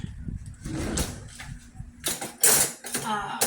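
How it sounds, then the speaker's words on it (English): Flour whisked into melted butter for a roux, the whisk scraping and clattering in a pan in uneven bursts that grow sharper toward the end, close up with some faint background noise. "we are going to whisk that together"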